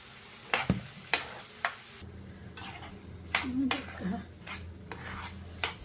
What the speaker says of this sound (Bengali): চাল ভাজা করে তারপরে ডিম দিব।